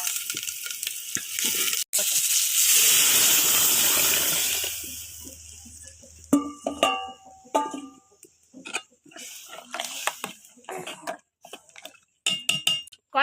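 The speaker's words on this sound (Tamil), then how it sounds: "சாம்பார் எடுத்து ஊற்றுங்க." Sambar is poured into a hot pan of moong dal sambar tempering, a loud rushing gush and sizzle for several seconds, then scattered clinks of a ladle against the pan and quieter bubbling.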